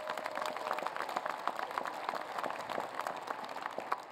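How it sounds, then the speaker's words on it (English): Applause from an audience at a university engineering commencement ceremony, a steady patter of many hands clapping at moderate distance, sustained for several seconds with no voices. "Give her a round of applause."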